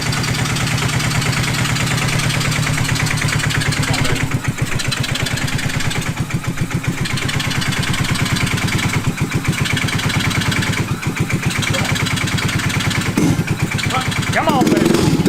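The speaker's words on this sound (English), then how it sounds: "We bought a mini Jeep. Put a 190cc 5-speed engine in." A mini jeep's 190cc engine runs loud and close with a rough, steady idle, putters and revs unevenly near the end. There's no talking.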